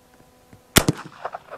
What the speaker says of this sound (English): really just to have a little fun and shoot some great Winchesters